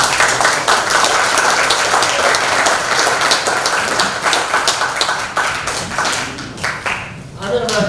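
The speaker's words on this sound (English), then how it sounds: "another round of applause for" An audience applauds after a performance at a post-show discussion, sustained loud clapping that thins out and tapers toward the end.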